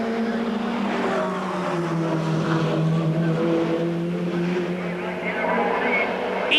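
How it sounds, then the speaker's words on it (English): Ford Sierra Cosworth touring cars racing at around 155 mph in the 1990 British Touring Car Championship, a sustained loud engine drone with shifting pitch as they pass, steady throughout with no distinct gaps. "This is 155 miles an hour for the Ford Sierra Cosworths."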